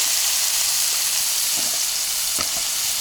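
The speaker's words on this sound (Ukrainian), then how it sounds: "м'ясо піджарюється трошки, тепер перевернути" Meat frying in a pan outdoors, a steady broadband sizzle that stays loud and even throughout, with a couple of faint clinks or stirring taps near the end and no talk.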